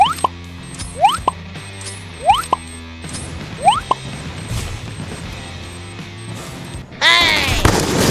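Free Fire game gunfire and sharp impacts pop in a rapid series, then a loud grenade blast-like burst with scattered crackling near the end.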